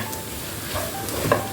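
Chili powder sautéing in a pan gives a quiet, steady sizzle, with a soft scrape of stirring near the end.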